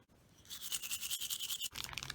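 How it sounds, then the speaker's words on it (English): Toothbrush bristles brushing Cool Slip lubricant across a clay mold, a close, quiet scratchy scrubbing in quick strokes with a short pause midway. "I'm using Cool Sleep and I'm spreading it with a toothbrush."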